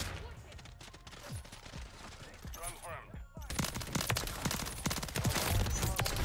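SMG fire in Modern Warfare 3 multiplayer, with rapid bursts of automatic shots that grow louder and denser in the second half, mixed with game effects and someone talking over them.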